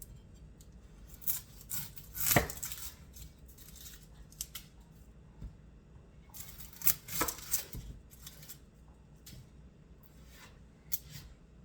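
A knife cuts and peels a medium onion for kebabs on a board, giving scattered crisp snips and scraping strokes with short bursts of activity and pauses between.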